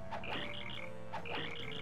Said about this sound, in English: that attack is supposed to sound like crickets